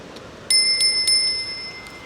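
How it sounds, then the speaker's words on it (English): A handlebar bicycle bell on an Aventon Pace 4 commuter e-bike rings out in three or four quick bright dings, close and clear, leaving a lingering metallic tone over quiet outdoor background. "Also have this bell."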